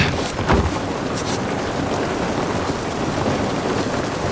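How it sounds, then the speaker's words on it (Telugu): Steady rain with distant rumbles of thunder in the video game The Last of Us Part 1, a dense unbroken wash of rainfall that continues at even loudness throughout. "నిజంగానే వర్షం పడుతున్నట్టు ఫీల్ వస్తుంది నాకు"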